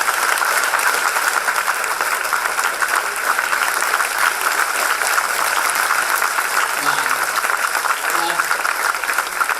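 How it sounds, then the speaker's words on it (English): A lecture audience applauds Dr. Shashi Tharoor, a loud, sustained wash of clapping filling the hall for nearly ten seconds, with faint voices beneath near the end. "let's hear a loud round of applause for this fantastic lecture"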